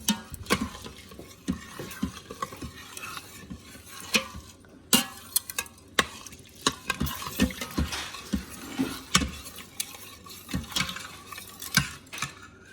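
A utensil stirs yellow rice in an Instant Pot inner pot, making repeated scraping clacks and swishes in an uneven rhythm, close and fairly loud, with no voices.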